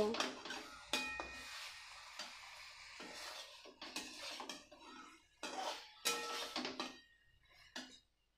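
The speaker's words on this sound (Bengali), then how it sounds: "বেগুনগুলো দিয়ে আমি মশলাটা বেগুনের সঙ্গে ভালো করে মিশিয়ে নেব" Fried brinjal pieces are turned into masala in a pan with a spatula, producing bursts of scraping, clinking and light sizzle, separated by short quiet gaps, close to the listener.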